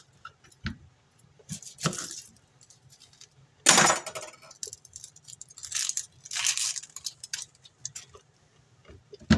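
A knife chops onion into big strips on a cutting board, with several separate bursts of cutting and crisp slicing strokes, close and irregular with pauses between.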